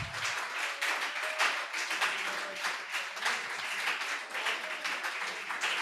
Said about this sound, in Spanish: Si tiene un aplauso para Él.